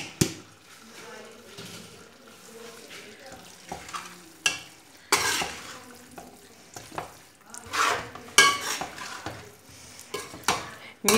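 Potato and fenugreek leaves with ground cumin, coriander and fresh coriander being stirred in a pan, giving intermittent scraping and clattering strokes over a soft sizzle, close and moderately loud.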